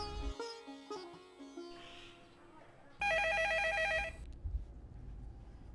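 An old landline telephone rings loudly in a domestic drama scene, one sustained electronic trilling burst after soft music fades, then cut off into quiet room tone.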